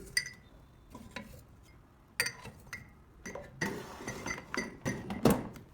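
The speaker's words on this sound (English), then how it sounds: "Now place it in the air fryer." Egg cup holding a cracked egg set into an air fryer, a few light clinks and taps spread out, then a busier cluster of knocks and a sharper clink near the end, close and fairly quiet.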